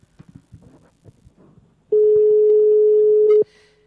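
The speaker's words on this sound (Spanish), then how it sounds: "Suena el teléfono de la Resistencia." A single long electronic telephone ring tone sounds loudly and steadily for about a second and a half on a radio show, following some quiet background voices.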